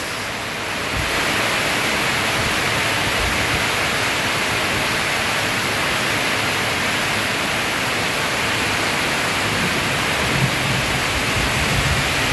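Heavy evening rain driven by strong wind pours as a dense, steady roar close by, building over the first second and then holding constant with no voices.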